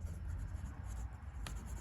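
A steel medium-nib fountain pen scratches steadily across paper, close and continuous with a soft low rumble beneath and one brief sharper stroke near the end; no one speaks.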